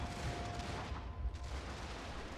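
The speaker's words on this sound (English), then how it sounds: "Oh, now they're shooting up the flank around the cannons." Distant, faint musket volleys crackle in a war strategy video game as troops fire along a flank near the cannons, a scattered fusillade of soft pops over a constant low background rumble.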